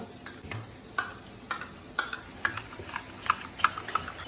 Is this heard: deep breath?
no